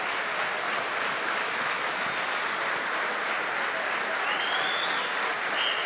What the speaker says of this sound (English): Last 32 seconds, fans clapping this one down.